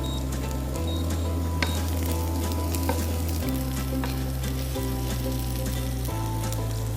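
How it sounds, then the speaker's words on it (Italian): Chopped onion sizzles steadily as it browns in a pan for an Italian fish-roll dish with capers and olives, a close, constant frying crackle with occasional light clinks of stirring. "Nel frattempo la nostra cipolla sta rosolando"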